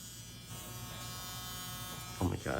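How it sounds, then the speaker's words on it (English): An electric nail drill buffs acrylic nails with a steady high-pitched buzzing whine, fairly quiet and close, while a person talks over it near the end. "Oh my god, this drill is so loud."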